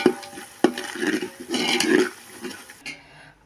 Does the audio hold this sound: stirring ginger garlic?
yes